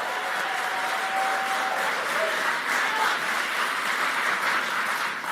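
Crowd applauding during a political campaign speech in Rocky Mount, North Carolina, a dense, even roar of clapping that holds steady throughout with a faint tonal whine in the background.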